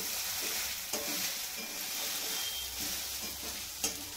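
Sabudana khichdi stirred in a pan, a steady close scrape and soft sizzle running throughout with a couple of sharper knocks of the spoon against the pan.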